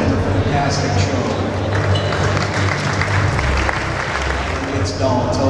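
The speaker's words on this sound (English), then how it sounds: "huge round of applause" Audience applause at a Brown Swiss cattle show, a loud, dense roar of clapping from a large crowd with low hum and crowd noise underneath throughout.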